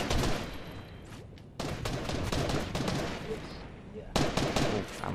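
Rapid bursts of gunfire from the Fortnite battle royale video game, loud and close, with clustered shots across the clip and a strong volley near the end, under faint talk.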